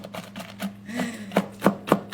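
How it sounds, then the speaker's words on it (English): Nuts chopped with a knife on a board for a dairy-free, gluten-free chocolate torte: a series of sharp, close knocks, irregular at first, then a quicker rhythmic run of chops, with no talking. "Okay, nuts are done. Knife away. Beautiful chopped nuts."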